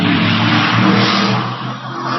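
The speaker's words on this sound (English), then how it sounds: "The patio has been flooded with giant trucks all of a sudden." Giant trucks roar past a patio, a loud continuous engine rumble with heavy low drone that dips briefly and swells again, close by.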